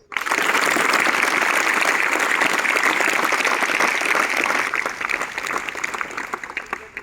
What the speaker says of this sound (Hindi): ओके, ताली में जाओ।